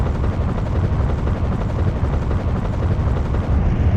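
A helicopter in a Metal Slug 3D PS2 game cutscene gives a loud, steady rotor roar with dense low rumble, continuous and close throughout, with no voices.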